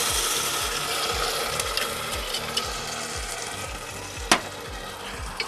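Red wine sizzling in a pan of softened vegetables for pasta sauce, a steady hiss with a repeating low mechanical ticking underneath and one sharp clank.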